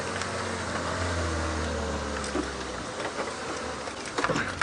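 Safari vehicle engine idling steadily on an early-morning game drive, a low, even rumble with faint insect buzz and small knocks over it, no talking.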